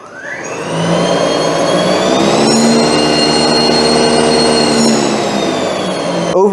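An EGO 56V 21-inch SNT2112 battery-powered snow blower starts up and runs, its electric motor whining up quickly to a steady, loud, even hum that holds close by, with no talking.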